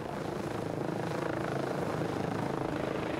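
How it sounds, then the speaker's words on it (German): An emergency medical helicopter flies back from an accident site about 60 km away, its rotor and engine making a loud, steady, continuous drone with no voices. "Nach etwas über einer Stunde kommt der Helikopter vom gut 60 Kilometer entfernt gelegenen Unfallort zurück."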